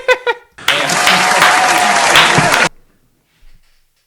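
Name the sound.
applause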